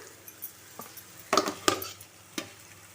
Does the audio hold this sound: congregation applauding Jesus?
no